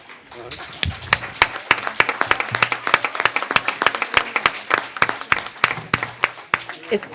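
Audience at a national rare diseases awareness day event breaking into applause, sharp individual claps standing out from a moderate clapping bed that carries on for several seconds, with faint voices in between.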